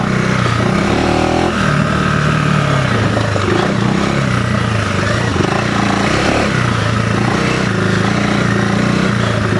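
A 2025 KTM 390 Enduro R on Pirelli MT21 front and Tusk D-Sport rear tyres picks up speed off-road, its engine droning loud and close with pitch rising and falling as it accelerates, steady and without a break.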